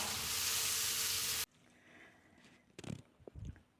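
Dried red chillies frying in hot oil, first a loud dense sizzle that cuts off abruptly, then quieter crackle with a couple of low thumps of stirring or handling near the pan.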